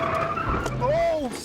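A car accelerating hard with its tyres skidding, a rising engine note and a drawn-out tyre squeal sweeping up and back down, loud and close, with talk over it.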